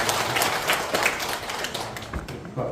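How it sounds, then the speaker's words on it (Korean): A Korean church congregation at Sunday morning worship claps in praise, a dense burst of many hands clapping close by at even loudness throughout. "하나님께 영광의 박수 올려드리겠습니다."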